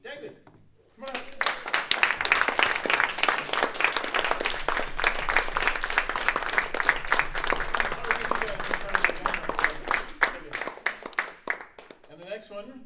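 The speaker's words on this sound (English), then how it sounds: "Clap for him." At a Toastmasters club meeting, a small audience breaks into a dense burst of clapping that holds steady for around ten seconds, then thins into a few last claps.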